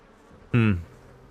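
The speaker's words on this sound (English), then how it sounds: "Oh god, there's bees." Bees give a single short, loud buzz lasting under half a second, close and droning over a quiet background.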